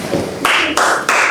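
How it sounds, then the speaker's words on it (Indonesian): Applause from a classroom group bursts out in three short rounds of close, loud clapping, each cut off abruptly. "Kita kasih tepuk tangan untuk kelompok 2"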